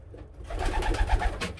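A red pigeon hen gives soft, low cooing calls from her nest in a small breeding loft, a brief close run of throaty coos alone.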